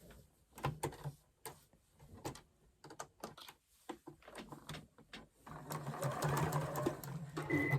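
A sewing machine stitches through quilt fabric for a winter barn quilt, running in short stop-start bursts before settling into a longer, steady run of rapid needle clatter, close and fairly quiet.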